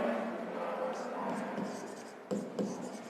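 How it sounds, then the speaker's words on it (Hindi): A pen scratches out an accounting heading on paper, a soft continuous scribble under a man's spoken explanation, with a couple of sharper taps near the end. "पहले सबसे पहले यहां पर हम ये लिखते हैं"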